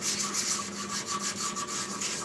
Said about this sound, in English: watching White Waldt doing some hand sanding